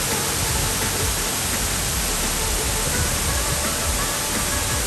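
Prut Falls near Cherrapunji cascades in a constant broadband roar of rushing water, loud and close, steady without a break.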